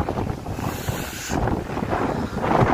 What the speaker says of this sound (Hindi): बहुत तेज हवा चल रही है, बारिश होने वाली है